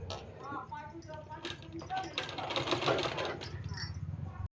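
A sewing machine stitching palazzo pants, a rapid rhythmic needle clatter running nearly continuously at close range beneath a voice talking over it, ending abruptly.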